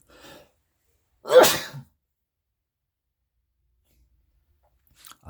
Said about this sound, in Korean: 죄송합니다. 갑자기 기침이 나와서.